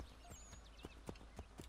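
Horse hooves clip-clopping at a steady trot in Assassin's Creed III Remastered, a game, with regular sharp hoofbeats over a constant ambient background.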